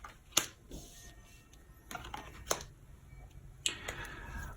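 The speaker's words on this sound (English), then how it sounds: "So let me take a moment and lay my cards out for you guys." Oracle cards from a Sacred Geometry Activation deck are laid out on a table, giving three sharp, crisp card slaps spread out over a quiet background with faint rustling between them.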